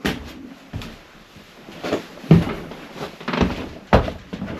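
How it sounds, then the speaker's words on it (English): A door on a 1987 Chevrolet Camaro is opened and shut during dash repair work, giving a series of dull thunks and clunks spaced irregularly over a few seconds, close by, with no talk. "Open that door back"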